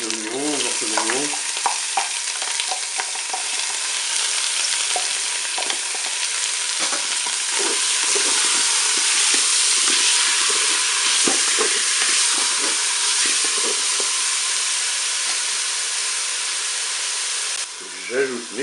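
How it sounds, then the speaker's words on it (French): Onion pieces fry in a Cookeo multicooker on its browning function with a loud, continuous sizzle and crackle, joined by stirring scrapes and brief clunks at the start and end. "Je suis à 2000 de fonction dorée, je vais ajouter mes oignons, morceaux d'oignons."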